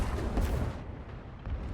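Ship cannons boom in Sea of Thieves, a dense run of heavy blasts in the first half that settle into a rumbling tail, with another thump near the end.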